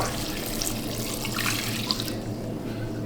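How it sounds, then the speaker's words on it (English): Eight cups of water run from a sink tap into a pot for a seafood gumbo broth. The stream gushes steadily and close by, then tapers off near the end. "Here's our 8 cups of water. We're going to fill this up."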